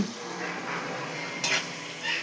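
Chicken deep frying in hot oil for biryani, a soft steady crackle and sizzle with brief stirring or utensil scrapes, close by and fairly quiet.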